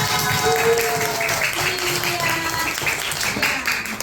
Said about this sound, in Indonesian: Oke, terima kasih, tepuk tangan semuanya